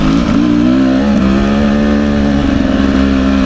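A 2024 Beta 300 RR Race Edition two-stroke dirt bike rides single track, its engine droning loud and close with a steady buzzing pitch that rises and falls slightly under the throttle.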